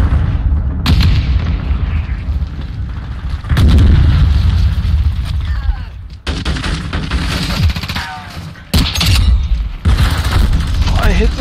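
Battle rifle gunfire in a video game, loud repeated bursts and booming shots in a dense, chaotic firefight, with voices talking over parts of the fighting.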